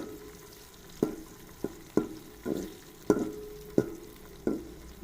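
Chopped onion frying in hot ghee, a soft, low sizzle broken by regular stirring strokes, about seven scraping pulses in quick succession, heard close and fairly quiet.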